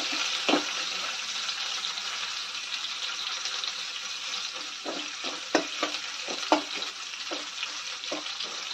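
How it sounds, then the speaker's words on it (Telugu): Onions fry in oil until deep brown, a steady close sizzle broken by occasional scrapes and taps of stirring, with no talking. "ఉల్లిపాయలు ఫుల్ బ్రౌన్ కలర్ వచ్చేంత వరకు వేయించాలండి."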